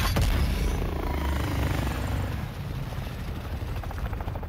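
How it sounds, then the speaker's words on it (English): Helicopter in the Call of Duty Warzone video game, a steady low rotor drone and engine rumble holding throughout, fairly loud at first and easing slightly later, with no talk. "What's this heli doing?"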